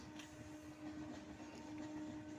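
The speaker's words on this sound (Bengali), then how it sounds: "ট্রেন ঢুকছে প্রায় অদৃশ্য বাঁদিকে।" A train rolls into Barrackpore station through dense fog with its headlight on, giving a faint, steady rumble of wheels and carriages with no one speaking.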